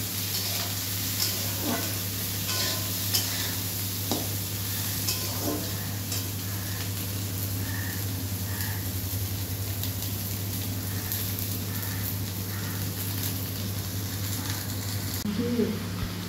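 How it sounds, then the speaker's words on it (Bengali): Eggplant frying in a pan, a continuous soft sizzle with occasional stirring clinks and scrapes over a steady low hum, faint and unbroken throughout. "বেগুনগুলো শুধু ভালো করে একটু ভেজে নিতে হবে।"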